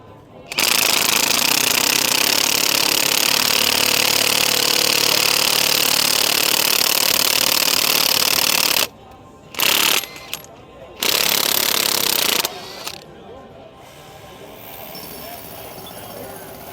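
Bosch GDS 18B 1180C 3/4-inch high-torque cordless impact wrench driving a fastener, a loud continuous hammering burst of about eight seconds, then several shorter bursts with brief pauses before it stops.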